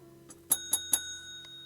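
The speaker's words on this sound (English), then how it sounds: "I didn't ding my bell." A small bell dings three times in quick succession at a fly-tying bench, bright and clear with a short ringing decay, preceded by a faint tap.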